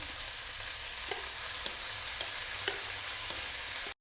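Udon noodles stir-fry with zucchini and cabbage in a pan as sauce goes in, a continuous sizzle with light scraping stirs heard close and alone.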